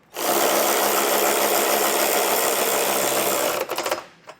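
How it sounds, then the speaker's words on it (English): Bolts on a hidden hitch receiver bracket for a 2022 BMW being run down with an 18mm socket on a power tool, a loud continuous whirring buzz for about three seconds, then a few short stuttering bursts as it stops. "we'll snug these down with the 18mm socket up top"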